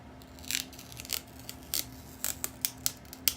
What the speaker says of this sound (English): it has a seal on there that you rip off